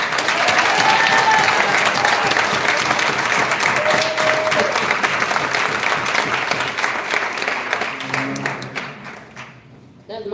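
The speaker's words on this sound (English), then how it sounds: "Give yourselves a round of applause." A large crowd at a village emergency meeting applauds loudly and continuously in a dense wash of clapping, a few voices calling out within it, before the applause thins and fades near the end.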